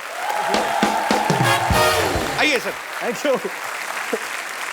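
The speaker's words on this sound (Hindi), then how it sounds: "जोरदार तालियां यार" On the set of The Kapil Sharma Show, the studio audience gives hearty, sustained clapping for arriving guests, loud and close, with a voice speaking over it.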